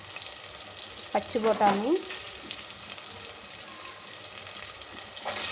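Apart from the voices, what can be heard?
vegetables frying in oil for veg pulao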